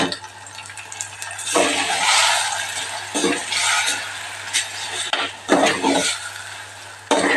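Mango chutney is stirred in a pot with a spoon, giving repeated scraping and sloshing strokes, some louder bursts, over a steady low hum close by.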